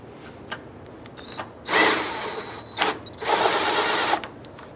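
A power tool tightens a bolt during an alternator replacement on a 2004-2009 Dodge Durango, firing in two loud, close bursts of high whirring and ratcheting with short clicks and quiet gaps between them.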